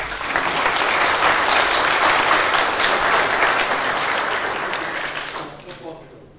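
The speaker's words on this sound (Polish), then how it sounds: "A może przez aplauz, właśnie." Loud audience applause at a Polish political party election convention, approving the chairman of the gathering; dense clapping that holds steady, then fades out near the end.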